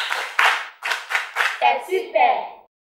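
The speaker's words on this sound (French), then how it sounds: "Applaudissez maintenant pour le lavage systématique des mains à l'eau et" Rhythmic group clapping in bursts, about seven claps with voices chanting along, from an audience at an outdoor health-promotion cinema screening in Malanville.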